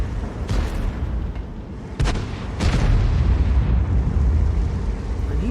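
Tank cannon fire and explosions from an E100 heavy tank battle in a video game: broadband booms at about 0.5, 2 and 2.6 seconds over a constant rumbling engine-and-battle din, with a commentator talking over it.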